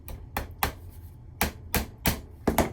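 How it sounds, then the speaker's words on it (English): Nails are hammered into wood while a step stool is assembled in a wood shop, giving sharp, close blows in irregular bursts, some single and some in quick pairs, with short pauses between. "So I'm going to lay this there, and I'll be nailing this together"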